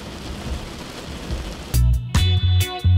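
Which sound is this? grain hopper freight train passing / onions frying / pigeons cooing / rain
rain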